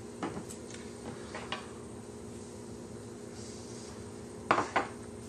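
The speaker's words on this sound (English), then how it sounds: "So we're going to start with a pan." Cookware clattering softly as a pan is set out for cooking tapas, with a few light metallic clinks early on and a sharper cluster of clanks near the end over a steady kitchen hum.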